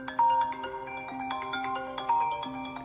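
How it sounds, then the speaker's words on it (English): Original iOS 11 iPhone default ringtone, a bright marimba-like melody of quick plucked notes repeating in a bouncy pattern, clear and alone. "Right here is a port of the original ringtone from iOS 11."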